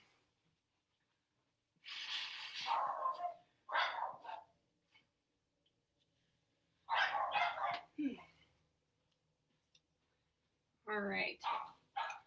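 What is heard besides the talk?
dogs barking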